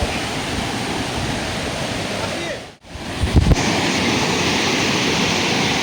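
A waterfall gives a steady, loud broadband roar, heard close with some wind buffeting the microphone and a brief handling bump partway through.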